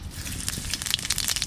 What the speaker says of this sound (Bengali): সর্ষের তেল দিয়ে দিচ্ছি, জিরে